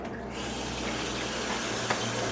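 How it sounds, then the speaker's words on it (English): Hot water runs from a tap into a container, a steady close gushing splash that stays constant throughout. "So I fill this with hot water, I scrub it and rinse it out"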